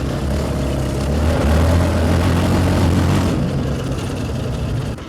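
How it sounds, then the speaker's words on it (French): A Yamaha 700 Raptor quad with its stock silencer and stock exhaust line runs steadily close by. The low engine drone is loud and constant, swells slightly near the middle and eases off toward the end. "même avec un silencieux d'origine et une ligne d'origine, le quad se comporte quand même très bien"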